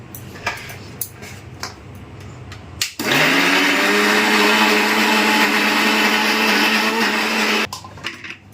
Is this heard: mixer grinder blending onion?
yes